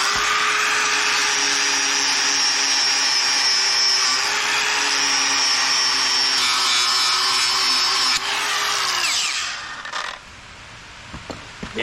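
A rough fiber abrasive on a power tool polishes a rusty, broken 65-year-old bolt: a loud, steady whirring whine with a grinding hiss that holds for several seconds, then winds down and stops.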